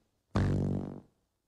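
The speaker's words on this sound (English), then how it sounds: "This is fart noises." A single fart sound effect, a loud low buzzy blast lasting under a second that cuts off cleanly, heard alone.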